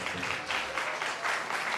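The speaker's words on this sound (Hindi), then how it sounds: "जोरदार तालियां" Applause from a church congregation at a Father's Day holy communion service, a dense steady wash of many hands clapping together, fairly loud and continuous throughout, with a faint voice underneath.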